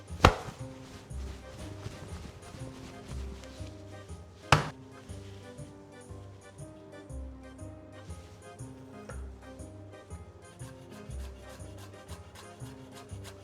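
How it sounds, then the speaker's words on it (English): A knife chops chilies rapidly on a cutting board, a quick run of close taps with one sharp louder knock partway through, over faint background music. "Fastest way to chop your chilies."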